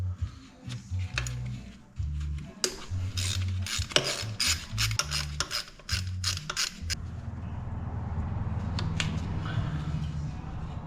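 Rapid ratchet clicking loosens 12 mm bracket bolts on a second-generation Toyota 4Runner engine during valve cover gasket work, several bursts of quick clicks with pauses, then a steadier mechanical hum, close and fairly loud.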